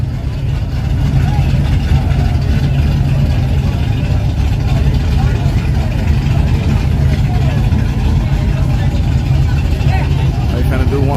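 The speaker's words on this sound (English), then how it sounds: "They finna do one more burnout, y'all." Drag racing car doing a burnout at a racetrack, a loud continuous engine roar that holds steady throughout, with a crowd and a voice talking beneath it.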